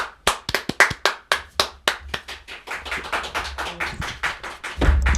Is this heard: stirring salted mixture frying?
no